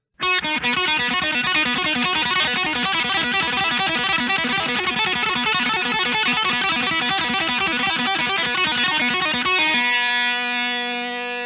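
Fast, distorted electric guitar lick in the style of Angus Young using open strings, played sped up in rapid, evenly picked notes, loud and continuous, ending on a sustained ringing chord.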